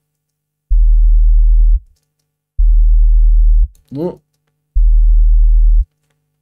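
Three repeated bursts of a deep sub bass tone, each about a second long, pushed into clipping distortion, separated by silence; someone speaks briefly between the second and third bursts.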